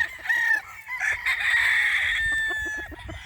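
A rooster crows in a long drawn-out call on a mountain farm, with clucking hens close by before and after.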